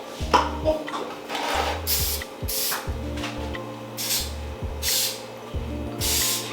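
Several short bursts of hissing cooking spray onto a baking pan come in irregular pulses over a low mechanical hum, with some faint voices nearby.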